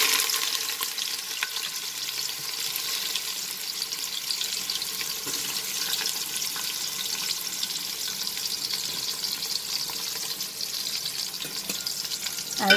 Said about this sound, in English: I'll saute the onions till it gets slightly cooked.